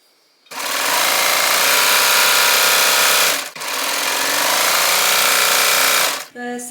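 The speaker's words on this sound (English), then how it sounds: "I'm going to serge all the way around the edges" A serger overlocks the side seam edges of a slip dress, a loud, steady mechanical whir running for about three seconds, pausing briefly, then running again for nearly three more before stopping.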